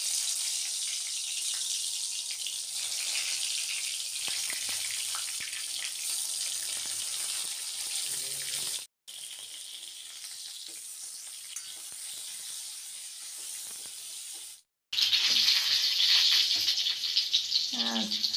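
Eggplant fries in hot oil in a wok, a loud, steady sizzle running throughout, broken by two brief pauses and a brighter, hissier burst near the end, with faint clinks of stirring.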